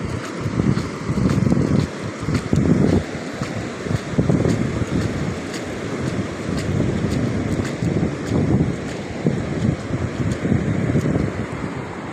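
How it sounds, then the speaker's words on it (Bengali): Sea waves roll in from far off and break in a steady, broad wash. Gusty wind buffets the microphone throughout, and no voices are heard. "দেখেন এই সমুদ্রের ঢেউ আসছে"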